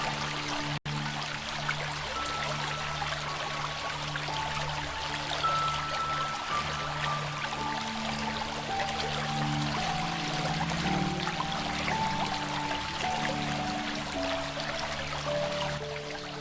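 The Ave river flows in a continuous, moderate wash of running water, steady and unbroken for the whole stretch, with soft sustained musical tones layered over it.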